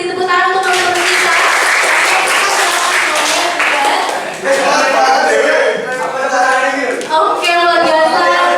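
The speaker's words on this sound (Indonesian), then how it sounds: "Boleh dong sekali lagi beri tepuk tangan untuk teman-teman kita" A school audience at a public speaking seminar in a high school in Yogyakarta applauds steadily, with loud, dense clapping throughout that briefly dips and then resumes.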